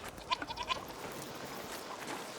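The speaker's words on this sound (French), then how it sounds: "Ça veut dire je t'aime, en chèvre." A goat bleats in A Plague Tale: Requiem, a few short wavering cries close by over a quiet outdoor background, with no talking.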